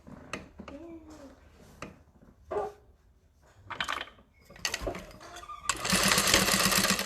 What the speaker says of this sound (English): And stitching this one.